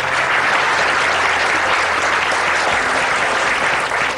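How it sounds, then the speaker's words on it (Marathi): A seated audience claps at a homeopathy talk, dense sustained applause at steady loudness throughout, close and full with no voices standing out. "टाळ्या झाल्या पाहिजे"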